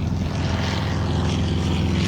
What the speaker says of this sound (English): Oh, that's a Cessna 180.